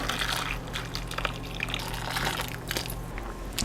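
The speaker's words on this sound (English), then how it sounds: "So I have some hot water here. It's really hot, and we're gonna soak these for a little bit." Very hot water pours steadily over chestnuts in a bowl to soak them, a continuous close gushing and splashing with bubbly trickles and no talking.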